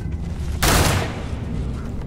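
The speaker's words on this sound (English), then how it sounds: "This is why automatic guns are my favorite." Automatic gunfire from a weapon in the video game Starfield: one loud, dense burst of rapid shots that cuts in sharply, then decays into a rumbling tail over quieter game ambience.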